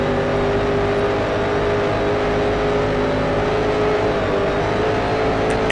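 Racing car engine in the Grand Prix Legends video game, a loud sustained high-revving roar accelerating up through the gears without a break, no voices.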